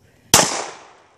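A single sharp gunshot from a Glock 43 compact pistol at a shooting range, loud and close, with a sudden crack and a short decaying tail.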